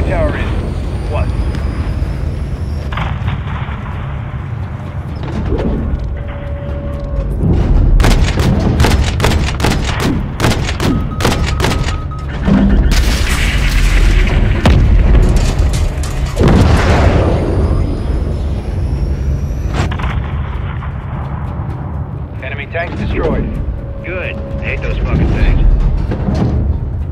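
Missile strikes in Call of Duty detonate in heavy, booming blasts with rumbling aftershocks and scattered gunfire, loud and dense through the middle, while radio voices speak over the combat.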